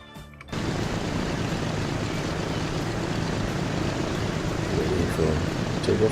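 A DC-3 airliner takes off at Phoenix in the video game Transport Fever. After a brief quiet moment, a steady, loud propeller-engine drone fills the rest of the clip and holds at an even level.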